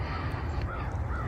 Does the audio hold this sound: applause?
no